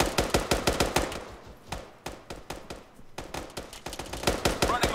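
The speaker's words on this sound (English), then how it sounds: "Firing on the advance." Rapid bursts of military gunfire ring out during an infantry advance in the video game ARMA 3, sharp repeated shots in quick rhythmic strings with brief pauses, loud and close throughout.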